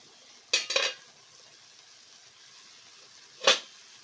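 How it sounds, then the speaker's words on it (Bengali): Mung dal and ash gourd curry being stirred in a pot, giving two short scraping, sizzling bursts of spoon against metal, one early and a second a few seconds later, close and moderately loud with no talking. "নাড়াচাড়া করে আবারও কিন্তু ঢাকা দিয়ে দেবো"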